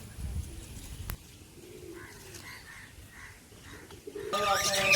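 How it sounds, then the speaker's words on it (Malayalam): Pigeons coo in soft, repeated low calls at a fish farm among other caged birds, fairly close, with a sharp knock early on and brighter chirping that rises at the end. "പിന്നെ പലവിധ പക്ഷികളും പ്രാക്കുകളും ലവ് ബേർഡ്സ് അങ്ങനെ ഒരുപാട് സംഭവങ്ങൾ ഇവിടെ ഉണ്ട്. വെറൈറ്റി പ്രാവുകളൊക്കെ ഉണ്ട്."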